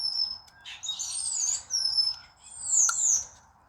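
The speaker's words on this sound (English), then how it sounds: "There's the birds, gotta be that loud." Birds sing loudly outside: a series of bright, high chirps and whistled phrases come in quick overlapping bursts over a faint low background, with no voices.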